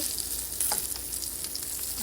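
Close, continuous sizzle of pointed gourd pieces, skin on, frying in oil in a pan, with a few light scraping and stirring clicks over the steady hiss and no talk.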